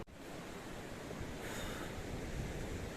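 Ocean waves surging at a beach surf school in Mulki, India: a broad, steady roar of surf and churning water that swells louder midway, up close and continuous, with wind noise and no voices.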